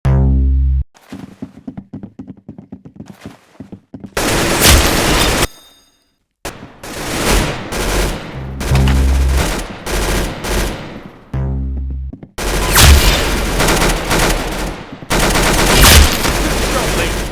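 Rapid bursts of machine-gun fire and single gunshots from the game Arsenal, loud and close, coming in dense volleys with brief pauses between them and no voices.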